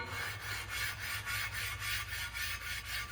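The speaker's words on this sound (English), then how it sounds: "on the stone I'm going to hand work this surface" Oiled stone worked by hand across a metal mounting surface for a Quincy compressor, giving a steady rasping scrape in a regular back-and-forth rhythm of roughly eight strokes, close and continuous over a low hum.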